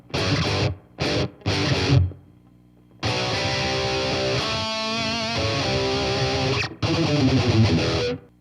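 Electric guitar through a BOSS Katana MK2 amp with a heavy metal-style distorted tone and short slapback delay, playing choppy bursts and then sustained chords with a fast bent run, loud and close with no talk.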